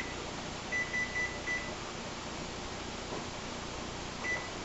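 Several short electronic beeps from a kitchen timer being set for baking cinnamon rolls in a cast-iron skillet, a quick run of four beeps followed later by a single beep over a steady background hum.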